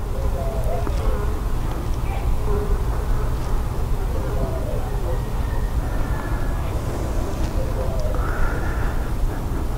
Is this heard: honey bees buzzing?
yes